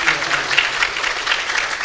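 Audience applause at a religious gathering honouring a revered Maharaj of the ISSO temple community: dense, steady clapping from many hands, fairly loud and sustained throughout.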